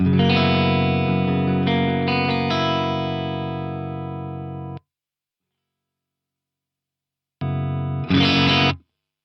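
A clean electric guitar chord rings out and slowly fades, then silence, followed by a couple of short strummed chords.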